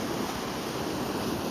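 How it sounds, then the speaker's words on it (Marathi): Rainwater pours steadily over a small check dam beside farm fields, a dense, unbroken roar at close range with no pauses and no voices. "त्याच्यावरून कसं पाणी ओलांडतं बघा"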